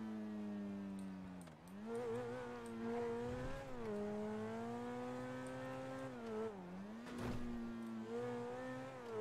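A car engine in a Unity-based roleplay game, driven with a keyboard, drones steadily with rising and falling pitch as it accelerates and shifts, with a brief dip and a whine near the end.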